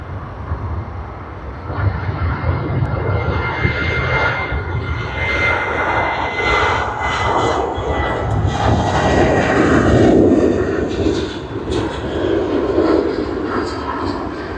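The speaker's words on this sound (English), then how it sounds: "we do see Sydney to Adelaide service on the Boeing 737-800" Boeing 737-800 jet taking off at Sydney Airport on a Sydney to Adelaide service, a broad, loud engine roar that swells steadily and rumbles on throughout, heard alone.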